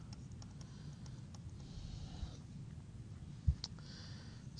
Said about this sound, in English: Yeah, I'm actually typing that out.